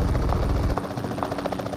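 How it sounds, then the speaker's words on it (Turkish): A helicopter in the mobile game PUBG Mobile gives a steady, loud rotor thump and whine that fills the scene, with faint gunfire-like clicks and game noise mixed in. "Aha helikopter."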